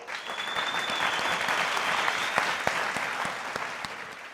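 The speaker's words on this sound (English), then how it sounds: "a big round of applause to them" An audience at a hospitality industry event claps steadily and loudly throughout, a dense sustained round of applause with no voices.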